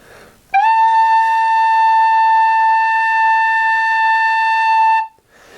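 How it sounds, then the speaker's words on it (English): A single steady tin whistle note of A, held cleanly for about four and a half seconds with a bright, pure tone and a crisp start and stop, played alone. "the next note is A, and that is two fingers, so it sounds like this."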